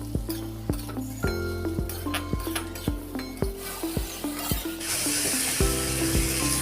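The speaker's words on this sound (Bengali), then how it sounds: "এবারে ওই ভাজা বরবটি আর আলু দিয়ে দিলাম।" Fried yardlong beans and potato, seasoned with Kashmiri chilli powder, being stirred in a pan, with repeated scraping and clinking strokes against the metal over a steady sizzle, close and fairly loud.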